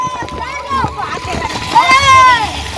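Boys splashing water while bathing under a village pump set, with irregular close splashes and running water mixed under lively children's voices.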